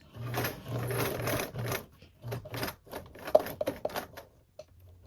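A sewing machine stitching through fabric runs in short rapid bursts separated by brief pauses, then ends in a few choppier stops and starts; it is quiet and close.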